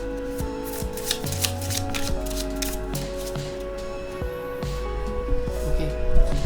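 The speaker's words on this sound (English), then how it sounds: "I have shuffled this deck really well, and you can tell I shuffle in between the card draws" A tarot card deck is shuffled by hand in quick riffling bursts and soft slides of card against card, close and crisp, repeating in rhythmic rounds over faint background music with no talking.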